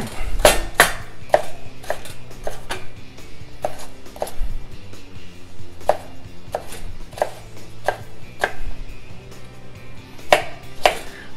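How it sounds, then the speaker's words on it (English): A knife chops potato chunks on a cutting board for a clam chowder, the blade striking the board in steady, irregular thuds and clacks, close and fairly loud, with no talking. "We don't want to have too big of chunks of potato, so we want to cut them down a little bit"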